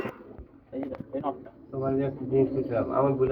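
Soft pigeon cooing mixed with speech-like voices and low murmurs, moderately close, with several short bursts before a denser stretch.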